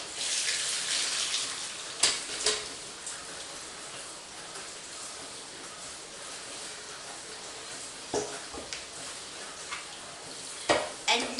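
Soft, tender boiled potatoes being tipped out to drain, giving a steady hiss of pouring water with a few sharp knocks from the pan, moderately close and with no talking.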